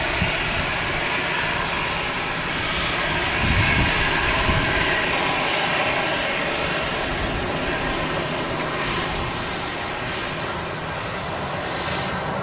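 An EasyJet Airbus airliner arriving from Mykonos passes with a steady, moderately loud engine roar that swells slightly in the middle and then fades a little, with no voices over it.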